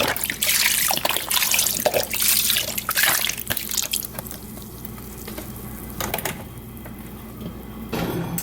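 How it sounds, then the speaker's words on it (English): A 32-ounce carton of chicken broth is poured over chicken in a soup pot, a liquid splashing and trickling that is strongest early on, then settles into quieter drips and gentle bubbling with a few brief clatters. "pour a 32-ounce container of chicken broth over the chicken and bring it to a boil."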